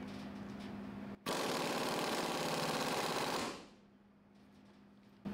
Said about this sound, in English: you can go back to your pneumatic impact